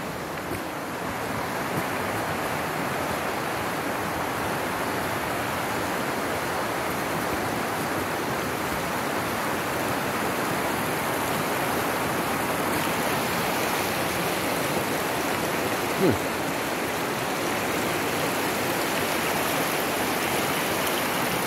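Steady broadband rush of a river flowing, continuous and fairly close, with no voices, like water running over stones, near Trout Hole Falls, St. Albans, Newfoundland.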